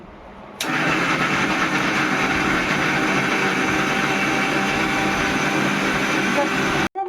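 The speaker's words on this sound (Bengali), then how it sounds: "আদা কুচি রসুন কুচি পেঁয়াজ কুচি নিয়েছি এটা মিক্সিতে বেটে নেব" An electric mixer grinder blending chopped ginger, garlic and onion with water switches on abruptly. It whirs loudly and steadily for about six seconds, then cuts off.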